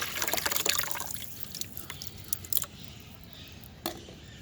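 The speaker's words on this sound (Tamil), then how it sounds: "டைல்யூஷனுக்காக இந்த பக்கெட்டில் ஊற்றிக்கிறேன்." Liquid fertilizer is poured into a bucket to be diluted: a liquid stream splashes and trickles in the first second, then gives way to scattered soft drips and faint plastic clinks, close and fairly quiet.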